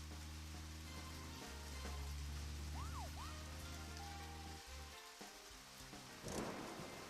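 Rain in the video game Deadly Premonition falls as a soft, steady patter under a low droning hum and faint electronic tones, staying quiet throughout with a slight rise near the end.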